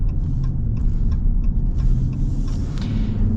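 A deep engine rumble from a 2024 Ram 1500 Warlock's 5.7 Hemi V8 builds steadily inside the accelerating pickup, low and continuous, with road noise underneath and no talking.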